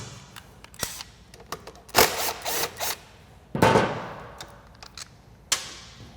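Hand and power tools working on a Polaris Timbersled snow bike to remove the lower chain glide: short whirring drill bursts and ratcheting clicks, with sharp metallic ticks between them, close up and without speech.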